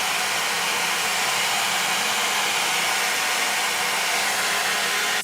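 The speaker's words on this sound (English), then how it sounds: "I'm going to use my blow dryer to just set all of this up" A steady, loud whoosh of a hair blow dryer running continuously up close, with no voices.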